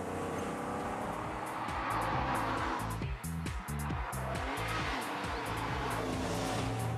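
A 350 bhp TVR sports car engine roars loudly and continuously, a deep throbbing exhaust note with a rhythmic pulsing beat rising and falling as the car is driven hard.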